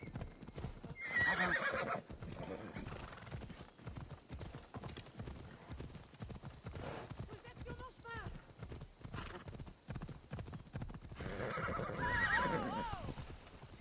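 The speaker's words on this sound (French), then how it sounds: "Oh le cheval." In Assassin's Creed Odyssey, a horse neighs loudly near the start and again near the end, with galloping hoofbeats rumbling in between while someone talks over the action.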